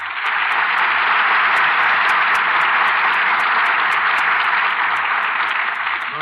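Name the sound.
studio audience applause after a radio play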